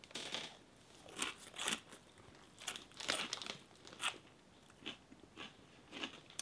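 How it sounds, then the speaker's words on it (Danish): Flaming hot cheese puff chips crunched close up, with a string of sharp, loud bites and chews in an uneven rhythm and short quiet gaps between them. "Det knaser bra, hør det."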